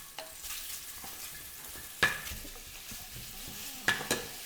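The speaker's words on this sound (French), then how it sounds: "ça consiste à faire revenir un petit peu ces agneaux, un petit peu d'huile d'olive" Lamb browning in a little olive oil in a pan, a soft steady sizzle with a few sharp utensil scrapes and knocks against the pan, close by and without talk.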